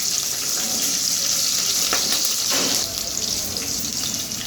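Slit green chilies with curry leaves frying in hot oil in a pan for Andhra-style egg pulusu, a steady close hiss of sizzling with a few brief stirring scrapes midway, no talking.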